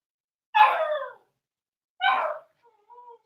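A small dog barks twice in short, separate yaps with a soft whine trailing after, close and clear against a silent background.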